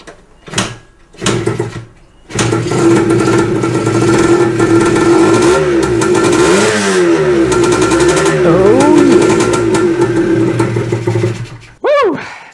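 A rebuilt, modified Yamaha DT175 motorcycle is kicked over twice, then fires up and runs loudly and close for about ten seconds, revving up and down in waves before cutting out, followed by a final short mechanical rattle.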